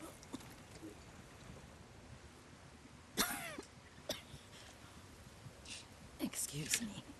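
A woman coughs in Ghost of Tsushima during a cold wind, a few sharp, raspy bursts standing out over quiet ambience, with other brief throat sounds around them.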